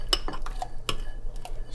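A spoon clinks and scrapes against a bowl while whey is mixed with liquid for Persian ash reshteh, a handful of quick, close metallic taps spread unevenly over a couple of seconds.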